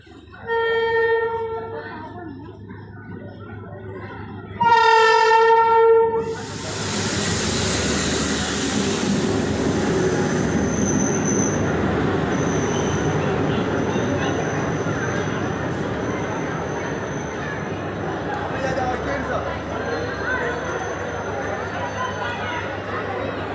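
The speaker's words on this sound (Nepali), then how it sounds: "ल ट्रेन आयो ट्रेन ट्रेन" A train sounds a loud, sustained horn, then thunders past close by with a long, steady rumble of wheels and carriages that gradually fades. Voices are heard over the approach.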